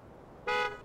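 A single short honk from a truck horn in the mobile game Mud Runner: a brief, bright, buzzy blast lasting about a quarter second after a moment of quiet.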